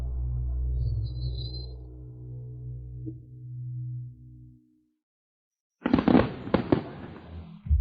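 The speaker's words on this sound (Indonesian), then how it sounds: "itu sinyal kembang api" Low droning tones fade into silence, then a sudden burst of loud crackling bangs erupts as a firework signal goes off nearby in rapid succession.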